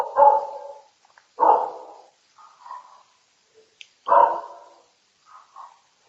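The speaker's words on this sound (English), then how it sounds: "I'm sorry about the dog barking." A dog barks near and loud in separate bursts, roughly four strong barks with a few softer ones between, set against an otherwise quiet room.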